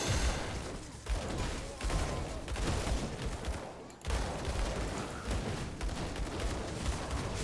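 Gunfire from enemies in the action role-playing game Grim Dawn: rapid bursts of shots in a steady, dense stream, moderately loud, with brief gaps, amid game effects.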